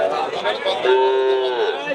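A crossbred Holstein Friesian cow lets out a single drawn-out moo at a cattle sale, over a busy background of crowd noise and voices nearby.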